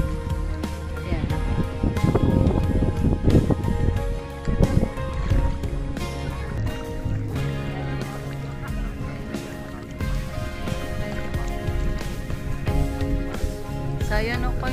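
A small wooden bangka sits on clear water at sunset, its motor droning steadily with water sloshing around it, loud and close, while people chatter nearby.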